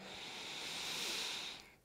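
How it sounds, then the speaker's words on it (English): A slow, steady breath drawn in through the nose during a beginner pranayama session, a soft airy hiss swelling over almost two seconds and ending in a brief sharp catch. "So breathing in through the nose"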